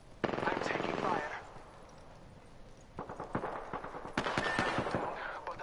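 Gunfire in the video game Apex Legends: rapid bursts of automatic shots come in two stretches separated by sparser cracks, loud and fairly close, with a voice speaking briefly.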